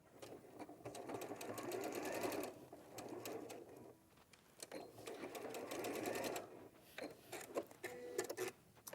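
A sewing machine stitches a quilt in quick mechanical bursts, pausing briefly between runs, close and clear with soft room noise around it.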